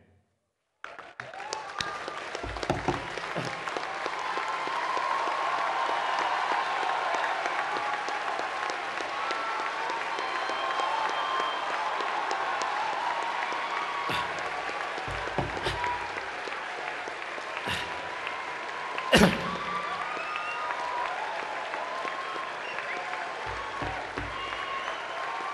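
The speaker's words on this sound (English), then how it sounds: "join me in giving the loudest applause we have ever given in this auditorium to him" An auditorium audience at a university convocation bursts into sustained applause, dense and loud clapping that starts abruptly and holds steady for over twenty seconds, with a few louder thumps and cheers scattered through.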